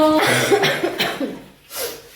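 Several harsh coughs in quick succession, close and fairly loud, with breathing between bursts.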